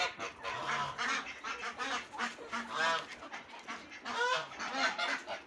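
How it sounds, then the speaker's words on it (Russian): Geese in a poultry shed honking continuously, several birds calling over one another at close range in repeated nasal bursts with no talk. "Гуси прям уже так выросли"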